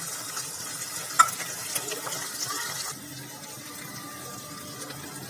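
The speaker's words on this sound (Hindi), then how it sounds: "इन सभी मसालों को हम अपने प्याज में ऐड कर देंगे। इसे अच्छी तरह से मिक्स करके भून लेंगे।" Spice masala stirred and fried into onions in a pot for chicken biryani, a soft continuous sizzle with a sharp clink early on, growing quieter partway through.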